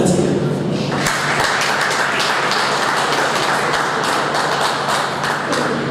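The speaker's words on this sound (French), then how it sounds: "je vous demande de vous applaudir" Audience applause at a charity solidarity gala for the Hibiscus initiatives, a dense, steady wash of clapping filling the room for several seconds, with a low hum and occasional thuds underneath.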